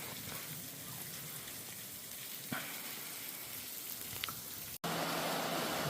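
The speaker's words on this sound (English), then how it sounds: "Nice little waterfall." Small waterfall deep in Coyote Gulch canyon, a steady broadband rush of falling water that holds constant throughout, with a couple of brief clicks and a short dropout near the end.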